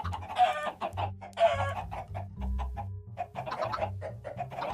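Repeated chicken clucks from a Minecraft 1.11 world, several short bursts in an uneven rhythm, fairly close and clear over a low background hum.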